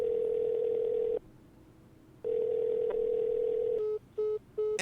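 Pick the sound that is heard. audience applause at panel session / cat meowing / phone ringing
phone ringing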